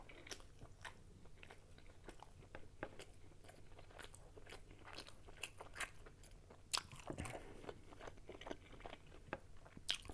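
Someone chews a toasted tri-tip Angus burger on a toasted bun, with close, quiet crunches and soft bites repeating irregularly and no talking.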